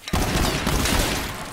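A gun firing in a video game, one dense, loud burst of rapid shots that starts sharply and continues unbroken for about a second and a half, with no talking over it.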